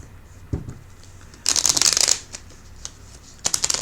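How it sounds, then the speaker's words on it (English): Tarot cards being shuffled and pulled from a deck: a short riffle near the start, then a longer dense burst of crisp papery shuffling, and another quick flurry at the end, close and fairly loud in a quiet room. "Let's pull the rest of the cards."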